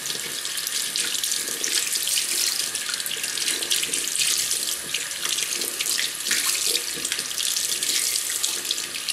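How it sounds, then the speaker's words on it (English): A tap runs in a steady loud stream while a shaving brush and its bowl are rinsed under it, the flow continuous with faint splashing shifts throughout. "rinse thoroughly inside the brush and caress it gently"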